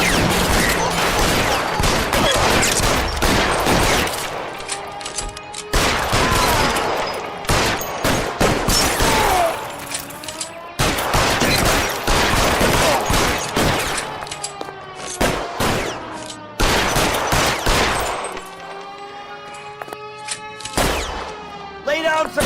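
Heavy gunfire fills a shootout in L.A. Noire, with dense bursts of rapid shots and automatic fire crackling almost without pause, loud and close, broken by brief gaps and sharp single reports.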